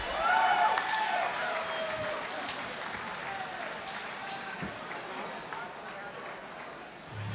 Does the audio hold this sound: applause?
yes